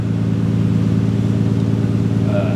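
A 1999 Nissan R34 GT-R engine with an aftermarket cat-back exhaust, idling as a steady, loud low burble with an even throb and no change in pitch.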